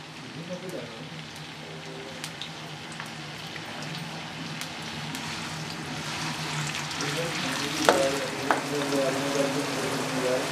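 Chopped onion frying in a pan, a soft steady sizzle like light rain, fairly faint, with a low hum and a few clinks near the end.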